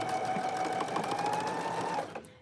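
A sewing machine stitches a curved quarter-inch seam on a shift dress, a close, steady whirring hum that runs for about two seconds and then stops.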